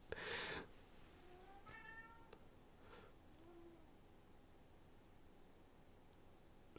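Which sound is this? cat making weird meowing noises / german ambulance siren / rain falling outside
cat making weird meowing noises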